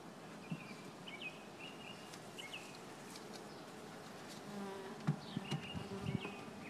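A steady, faint hum of honeybees drones around an opened beehive outdoors, with a few distant bird chirps and light knocks near the end.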